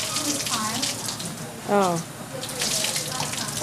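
Cold water splashes and gushes over a horse in a continuous wash, with a brief exclaiming voice partway through.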